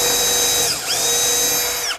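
A power drill whines loudly up close while pre-drilling a hole in a garage wall for an anchor, with a brief dip in speed midway and a sharp stop at the end.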